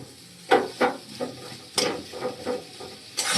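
Food seasoned with salt being fried in a pan and stirred, with a series of rhythmic scraping strokes over a soft sizzle, close and clear, no talking.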